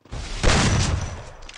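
Shotgun fire in a video game, a loud close blast that swells into a dense, rumbling burst about a second long before tailing off, with no voice over it.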